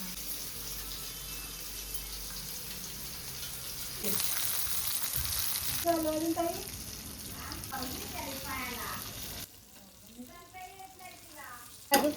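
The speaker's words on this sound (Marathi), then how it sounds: "आता त्याच्यामध्ये एक बोंबील फ्रायला टाकायचं." Bombil fish fry in a pan, giving steady sizzling with a brief burst of running water and some clatter, while people talk at times.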